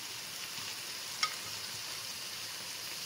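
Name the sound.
meat and spices being roasted in a pan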